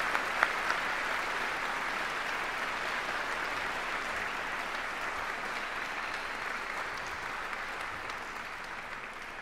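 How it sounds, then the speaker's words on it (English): Sustained applause from an audience at a high school graduation ceremony, steady and fairly even for the whole stretch, with no talking over it. "How about a round of applause for our recipients?"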